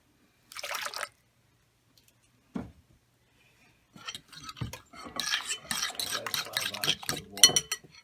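Eggs beaten with water in a bowl: a brief scrape, a soft tap, then a run of quick, irregular clinks and sloshing strokes growing busier toward the end, close and alone.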